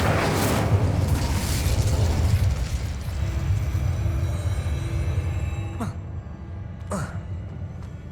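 Fire spell in Hogwarts Legacy, a loud rumbling burst of flame that fades over several seconds, followed by two short sharp magical cracks near the end.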